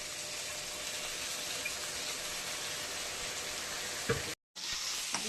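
Spinach curry with water just added simmers in a pan, giving a faint, steady sizzling hiss with a few soft pops, broken by a brief dropout near the end.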